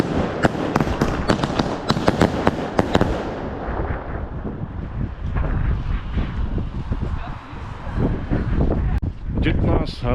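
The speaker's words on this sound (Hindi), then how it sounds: "और इतना हारून साहब ने आतिशबाजी जो ख़त्म नहीं हुई" Fireworks crackle and bang in rapid bursts on New Year's Eve in a Pahari village setting, sharp pops thick at first then continuing more distantly with wind noise and voices talking over them.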